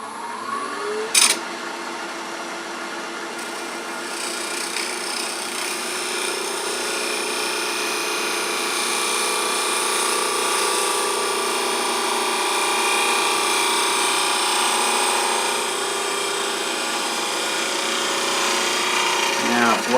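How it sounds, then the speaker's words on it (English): A spindle gouge cuts wood on a woodturning lathe while turning a ring holder, giving a steady broadband hiss and scraping drone that runs through the whole stretch, with one sharp click near the start. "now we're going to try another pass or two with this spindle gouge."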